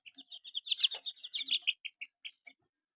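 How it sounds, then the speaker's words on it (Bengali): Ten 21-day-old chicks, nine hill naked-neck and one tiger chick, chirping on a farm in a rapid string of high peeps that taper off after about two and a half seconds, close and clear with no talk. "মোট এখানে 10 পিস বাচ্চা নিয়ে আসছি, তার ভিতর 9টা হলো পাহাড়ি গলাচিলা আর একটা টাইগার মুরগি বাচ্চা"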